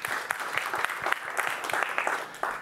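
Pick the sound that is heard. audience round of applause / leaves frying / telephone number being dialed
audience round of applause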